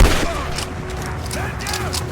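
Gunfire in Rise of the Tomb Raider: a sharp shot opens, followed by scattered booming reports over a muffled battle backdrop, with voices speaking in the mix.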